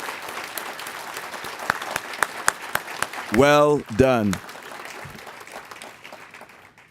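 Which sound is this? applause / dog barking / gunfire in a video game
applause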